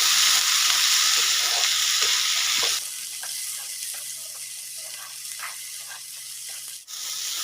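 Tomatoes sizzle loudly in a hot pan while sautéing for garlic gravy, then the frying quiets to a softer crackle with occasional stirring clatter.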